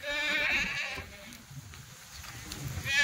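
Red Kathiawadi-type goat of Bhavnagar breed bleating loudly at a trading pen, with harmonic cries rising early and again at the end over low rumbling background noise.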